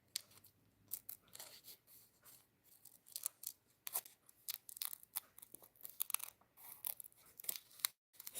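Scissors snipping through paper in a run of short, irregular crisp cuts, close and fairly quiet, with brief pauses between bursts and no talking.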